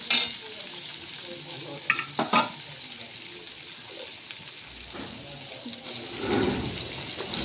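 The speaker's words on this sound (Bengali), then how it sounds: "ভালোটি করে লাল করে ভেজে দিতে হবে গাজরটা।" Carrots frying in oil for a home-cooked khichuri: a soft, low sizzle runs underneath, broken by a few clanks and scrapes of a spoon against the pan, with a louder rustling stir near the end.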